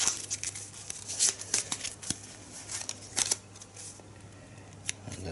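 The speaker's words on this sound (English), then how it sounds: "We're gonna have a shuffle." A deck of Arkham Horror board game cards being shuffled at a table, with soft, irregular riffling and snapping bursts close by, fairly quiet and without any talking.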